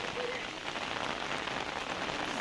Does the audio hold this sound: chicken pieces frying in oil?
no